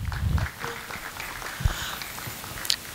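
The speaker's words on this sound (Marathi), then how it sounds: "त्यांच्यासाठी एकदा जोरदार टाळ्या झाल्या पाहिजे" An audience at a karaoke class birthday celebration claps together in a moderate, sustained applause that fills the room, with a few louder thumps standing out.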